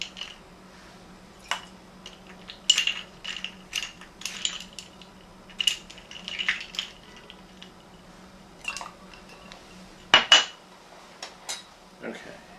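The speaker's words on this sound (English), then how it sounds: "Now let's put some ice in here." Ice cubes clink and rattle into a glass for a whiskey rum cocktail, in scattered bursts of sharp knocks with quiet gaps and one louder clatter near the end, over a faint low hum.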